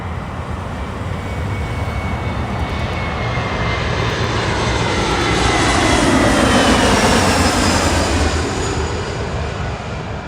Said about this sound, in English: That there you saw was Delta connection, flight 3542 coming from Portland, Oregon.